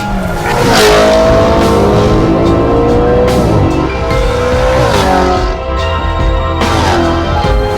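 A sports car accelerates hard, the engine loud and close, climbing through the revs with shifts between gears and a brief squeal of tyres, and no talking.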